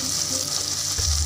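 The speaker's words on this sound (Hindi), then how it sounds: "प्याज़ों को लाइट ब्राउन करते हैं।" Onions fry in a pot of oil, a continuous bright sizzle with a soft stirring scrape near the end.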